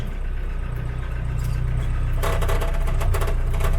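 A UAZ 469 fitted with a Ford Transit 2.5-litre diesel engine drives along with a steady low rumble, the engine note growing rougher and more clattery partway through.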